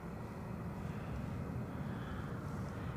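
A Ryanair airliner's jet engines roar at Edinburgh Airport, a steady, broad, distant rumble held for a few seconds with no talking.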